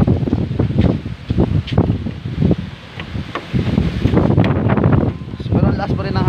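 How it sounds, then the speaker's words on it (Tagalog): Strong wind gusting outdoors in fair weather after rain, a broad buffeting roar that swells and dips throughout, with a person talking over it. "Pero ang lakas pa rin ng hangin."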